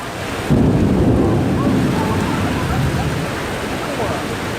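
A sudden thunderstorm with heavy rain in a busy street area, a steady loud wash of downpour with low thunder rumbling beneath it.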